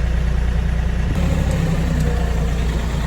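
A heavy tractor engine idles steadily with a deep, constant rumble, close by and unbroken, with a slight shift in tone partway through.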